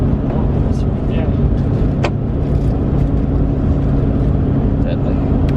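Steady loud road rumble from inside a car during a hitchhiked ride across Canada, a continuous low engine and tyre drone with occasional small knocks and no break.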